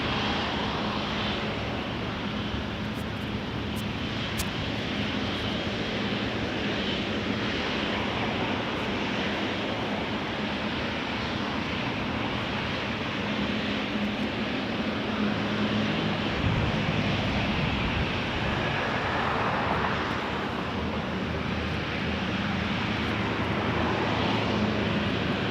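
Jet aircraft at Toronto Pearson Airport produce a continuous broad engine roar that stays loud and steady throughout, with no speech over it.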